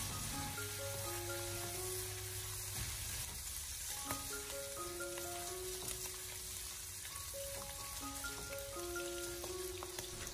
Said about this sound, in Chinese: 下切好的五花肉片给它用小火翻炒一下